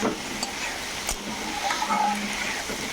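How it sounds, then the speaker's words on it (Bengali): Chopped vegetables sautéing in a pan for dalia khichuri, a cracked-wheat dish: a steady, soft sizzling hiss at moderate distance with a few faint clinks of stirring, and no voices. "দেখো, এখানে সবজিগুলা কষিয়ে নেওয়া হচ্ছে।"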